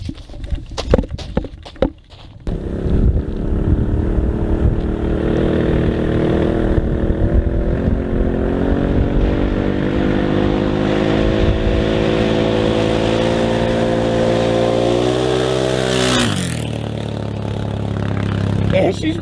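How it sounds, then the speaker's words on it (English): A Can-Am Outlander XMR 1000R ATV engine, loud and close, with a rough idle-like start before revving into a sustained, climbing roar that cuts off sharply near the end; a voice is heard early on. "She's pretty loud for a ATV."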